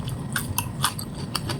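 Crunchy chewing of fresh betel leaf eaten with sweet fried tempeh, close-up bites giving several sharp crisp crunches in an uneven rhythm over a quiet background, with no talking.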